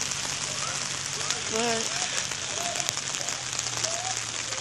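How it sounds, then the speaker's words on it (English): Rain patters outdoors during a flood in Rock Springs, Wyoming, a continuous soft hiss of drops beneath brief bird chirps and a few words of nearby talk. "And it's still raining actually too."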